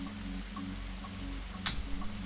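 Rain falls steadily in The Darkside Detective video game as a constant wash, with a low musical drone and a soft periodic chime underneath and one brighter splash near the end.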